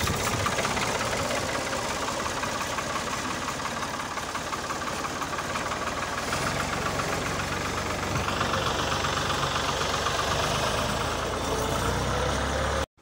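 A tractor engine runs steadily and loud throughout, with a rough, knocking idle and constant mechanical rumble, no voices over it.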